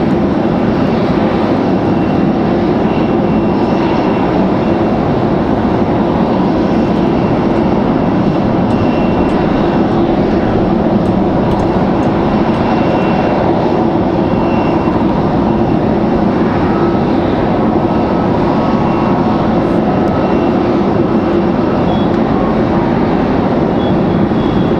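A United Airlines jet departs Raleigh-Durham International, its engines building into a loud, steady broadband roar that holds for the whole stretch with no speech over it.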